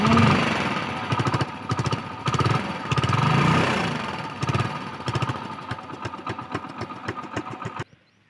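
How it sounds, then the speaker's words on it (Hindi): Motorcycle engine with a balloon fitted over the exhaust silencer, starting and running in loud, rapid sputtering bursts for about eight seconds, then cutting off abruptly. No one speaks. "बाइक को स्टार्ट करते हैं"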